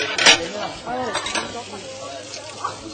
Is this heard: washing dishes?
yes